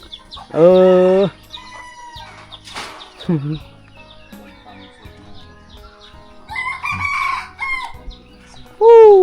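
A rooster crows loudly nearby, twice, with clucking hens and a voice speaking in between, in an old Yoy village in Khammouane, Laos.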